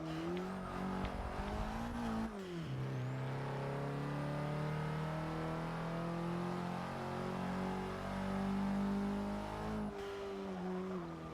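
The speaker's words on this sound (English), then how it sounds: "The sound of that fucking engine is unreal." A car engine in the racing game Forza Motorsport 6 drones and revs steadily and loudly, with pitch climbing and dropping through gear changes, alone without any talking.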